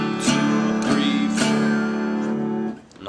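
Acoustic guitar open strings strummed down and up, about three ringing chord strokes in steady rhythm, close and resonant, fading near the end with no talk.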